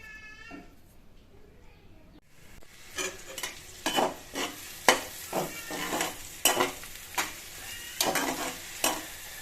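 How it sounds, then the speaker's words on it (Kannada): Tomatoes, onions and mustard seeds fry in oil for potato sagu, giving a steady sizzle with stirring clatter in the pan, interrupted by short bursts of spatter, and a voice speaks over the cooking at the start. "ಎಣ್ಣೆ ಹಾಕ್ಬಿಟ್ಟು ಸಾಸಿವೆ ಹಾಕಿದ್ದೀನಿ ಮತ್ತು ಟೊಮೊಟೊ ಈರುಳ್ಳಿ ಎಲ್ಲ ಫ್ರೈ ಉರಿತಾ ಇದ್ದೀವಿ ಫ್ರೈ ಮಾಡ್ತಾ ಇದ್ದೀವಿ"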